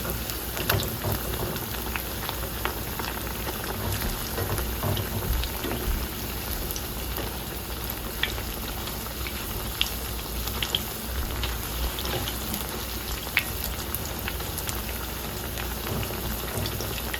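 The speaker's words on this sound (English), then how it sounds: "we're gonna let these fry for at least 4 minutes on one side and 4 minutes on the next side" Saltfish fritters sizzle steadily in hot oil in a Jamaican kitchen, a dense, continuous crackle with scattered sharper pops, close and fairly loud, with no talking.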